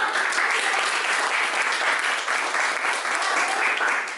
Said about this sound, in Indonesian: Aplaus untuk kelompok 2.